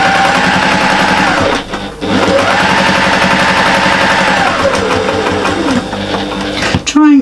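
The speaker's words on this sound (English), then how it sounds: "there's a lot of repeat stitching here" Sewing machine stitching a small fabric bag, a loud rapid mechanical whir in continuous runs with a short pause between them, close up, with a voice talking alongside.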